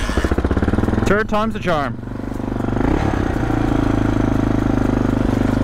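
A 1988 Yamaha XT350 single-cylinder motorcycle chugs through a few kick-start turnovers, then catches and settles into a steady, close, loud idle, with someone speaking briefly as it starts.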